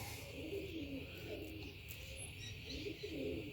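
Young pigeons coo softly in a loft, with several low, rounded coos repeating in a loose rhythm, faint and close, beneath a light high hiss.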